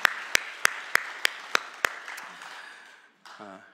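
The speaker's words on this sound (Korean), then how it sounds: "하나님께 감사하면서 영광의 박수 한번 올려드릴까요?" A church congregation claps in praise during a Sunday worship service, starting with several loud, slow, separate claps that soften into a fading patter. A brief voice comes in at the very end.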